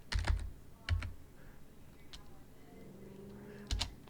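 Keys clatter on a computer keyboard while a password is typed, with a few quick clusters of close, crisp taps separated by pauses and faint background noise.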